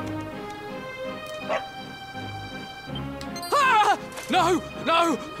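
A dog in the Dragon Quest XI video game lets out three loud, yelping barks in quick succession over steady game music.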